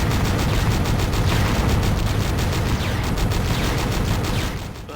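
A reactor blowing apart in the game Descent 2, a sustained loud roar of explosions with rapid crackling bursts that fades slightly toward the end, with no talking.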